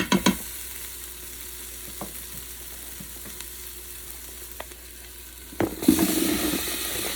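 Potatoes, carrots and celery for Japanese-style pork curry stirred in a pot, sparse clacks and scrapes of a utensil over a soft background hiss, with a louder burst of stirring and clatter near the end.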